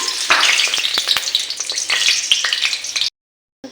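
Chicken frying in a pan over low gas with bay leaf, a loud crackling sizzle with repeated scraping clicks of stirring, cut off near the end before resuming briefly.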